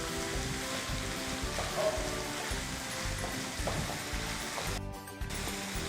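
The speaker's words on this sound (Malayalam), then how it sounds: "ഇതൊന്ന് വഴറ്റിയെടുക്കാം." Meat filling for Kerala irachi pathiri, seasoned with salt, sautéing in a pan. A soft, steady sizzle and crackle runs throughout with light scraping, quiet and unbroken, and no voices.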